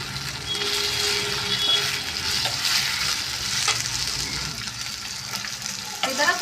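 Tomato and potato pieces fry in a pan with garlic, giving a steady, close sizzle for the whole stretch, with a few scrapes and stirring knocks near the end.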